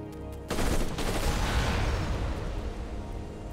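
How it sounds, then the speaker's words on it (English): Tactical jet bombing run in the strategy game Civilization: Beyond Earth: a sudden loud blast of explosive gunfire and booms erupts after a brief lead-in, then rumbles on as a dense, sustained barrage. "Let's keep on bombing."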